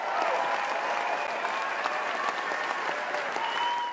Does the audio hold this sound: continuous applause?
yes